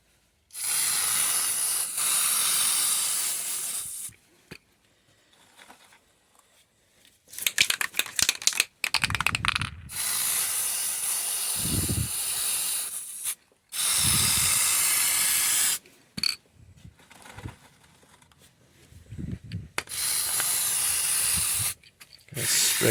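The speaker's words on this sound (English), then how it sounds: "So we just spray it up from the inside." Chain wax is sprayed from an aerosol can onto a Suzuki GSX-S motorcycle chain in several close, sharp hissing bursts of a few seconds each, separated by quiet gaps and small handling clicks.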